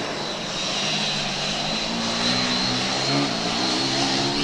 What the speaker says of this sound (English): Now the fan is on.